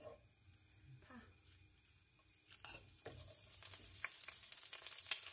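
Kimchi fried rice being stir-fried in a pan, a steady sizzle with repeated scraping stirs that grows louder and busier toward the end, with faint voices in the background.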